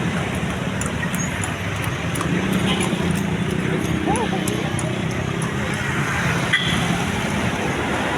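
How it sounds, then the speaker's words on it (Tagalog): Horse hooves clip-clop on a busy Cebu city street, light regular taps mixed into a constant roar of traffic and passing cars. "May kabayo na naman oh, 4 oh."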